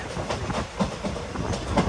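A passenger train pulls into a platform at Kollam Junction, its wheels clicking rhythmically over rail joints in a brief, moderately loud rolling rattle.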